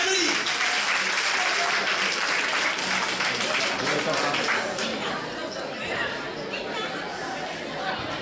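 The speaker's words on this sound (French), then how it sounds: "1, 2, 3, on applaudit." An audience at a junior debate closing ceremony applauds in steady, sustained clapping that fills the room, with crowd chatter mixed throughout, moderately loud and continuous.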